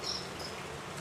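Jangkrik kalung cricket chirping nearby, a faint high trill amid a steady hiss of background noise, brief and continuous without voices.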